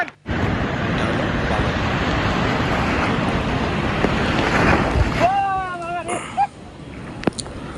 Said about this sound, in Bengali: ঢেউ আসলে সাথে সাথে লাভ দিতে হয়